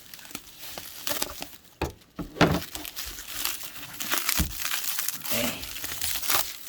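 A small gift box holding a smart business card is cut open at close range, giving continuous crinkling and scraping of packaging with a few sharper tearing bursts.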